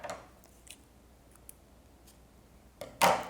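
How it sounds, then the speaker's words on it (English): Scissors snip through a short piece of yellow yarn while a god's eye is being made, giving one close, crisp cut near the end after soft handling noises. "Sometimes I go ahead and just cut this little piece here."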